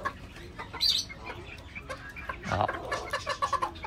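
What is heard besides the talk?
Ko-Shamo chickens clucking while eating feed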